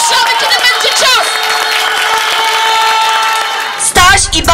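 An audience in a Polish school setting breaks into loud, sustained applause and cheering, dense clapping filling the space, with shouting voices mixed in and a brief surge near the end.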